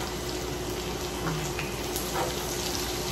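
Onions sizzle in a hot pan, giving a loud, continuous crackling hiss with faint pops that holds steady throughout.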